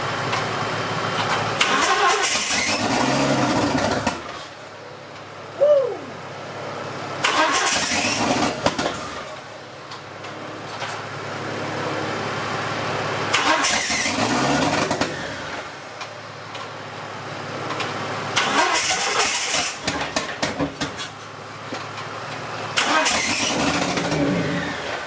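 Barra engine swapped into a GU Patrol, fuel pump bypassed, cranking in several loud bursts with brief pauses between attempts, each rising into a rough running roar, nearby in a workshop.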